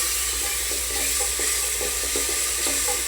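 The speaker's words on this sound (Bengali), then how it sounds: "আদা রসুন বাটা দিয়ে কিন্তু কিছুক্ষণ কষাতে হবে" Ginger-garlic paste sizzles and fries in a pan for pilaf, a dense hiss running under light, repeated stirring clicks and scrapes at a steady rhythm.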